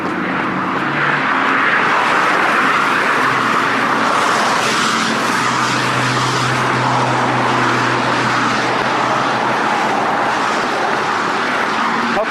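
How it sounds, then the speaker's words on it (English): Dense, steady roar of road traffic from cars passing continuously on a town road, loud and close throughout with no talking. "Hopefully the traffic won't be quite so noisy going back."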